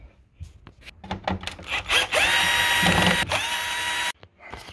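A cordless drill drives screws while a Mark 1 Golf bumper is being removed, with several short whirring bursts and clicks building to a sustained high whine that cuts off abruptly.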